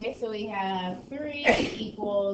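A single sharp sneeze bursts out midway, with calm speech before and after it.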